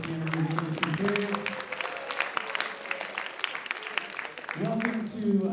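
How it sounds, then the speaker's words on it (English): Applause from an audience after a piano performance at a school writers' week event, steady clapping from many hands, with a voice speaking over the start and end. "round of applause for the wonderful piano music here."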